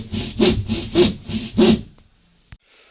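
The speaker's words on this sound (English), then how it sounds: "we're literally just cutting them with handsaw because it's easier" A handsaw cuts insulated plasterboard in four quick rasping strokes at a steady rhythm. The sawing sounds close, then stops, and a single light knock follows in near silence.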